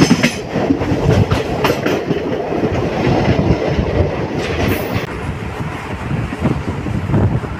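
Bundelkhand Express passenger train at Phulpur railway station, a loud, continuous rumble of rolling wagons with clickety-clack from the wheels and wind buffeting close to the microphone.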